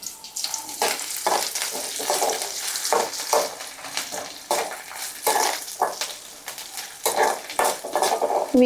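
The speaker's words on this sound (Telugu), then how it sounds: "ఇవి బాగా ఫ్రై అయ్యే వరకు ఇలా కలుపుకుంటే ఫాస్ట్గా ఫ్రై అవుతాయి" Onions with green chillies and salt sizzle loudly in a pan while a spoon stirs them in repeated scraping strokes, with occasional metallic clinks against the pan, close and continuous, no voices.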